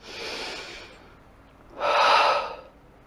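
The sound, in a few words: deep breath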